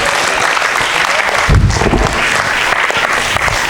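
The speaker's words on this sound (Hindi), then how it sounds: "तो जोरदार तालियां बजाएं एक बार उनके लिए।" Loud, dense applause from an audience at a Hindi poetry recital, continuous clapping that swells briefly midway and stays strong throughout, with no voice over it.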